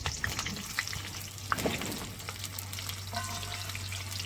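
Potato and pointed gourd pieces fry together in hot oil in a kadai, a steady crackling sizzle with occasional sharper pops and spatters, close and continuous.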